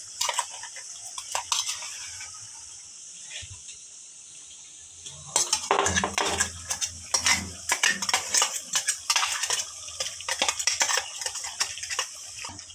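Chicken being stirred with ground gongura paste in a pan, scraping and clinking of a spoon against the metal in bursts over a faint sizzle, quiet at first and then busier and closer.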